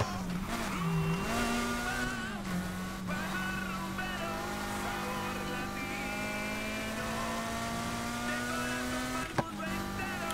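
A car from the racing game Need for Speed Heat drives with a steady engine drone whose pitch wobbles briefly and then holds, loud and continuous, mixed with game effects throughout.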